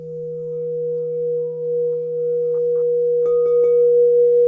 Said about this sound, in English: Listen to that power of this bowl.